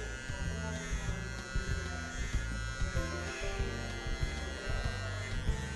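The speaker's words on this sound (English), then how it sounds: "I want to place the trimmer and come down, give it a nice round neck." An electric hair trimmer buzzes steadily at close range while it shapes and cleans up a rounded neckline on a man's straight hair in a barbershop, with slight rhythmic changes in pitch as it moves against the skin.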